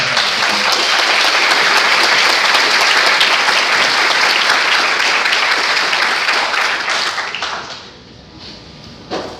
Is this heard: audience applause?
yes